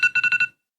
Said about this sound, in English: that is the alarm for my antibiotic